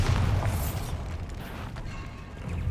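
Bombarda explosion spell in Hogwarts Legacy: a heavy, deep boom that rumbles and fades over a couple of seconds.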